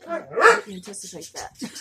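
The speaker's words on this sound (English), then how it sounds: "Sorry about the dog." A dog barks and yips in short sharp bursts, mixed with and partly under a person talking nearby.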